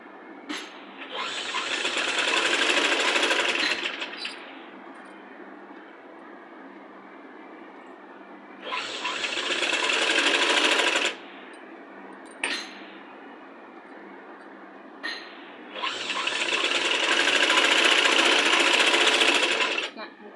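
A sewing machine runs a double stitch along a children's Punjabi dress top, in three loud, steady bursts of rapid stitching with quieter gaps between them.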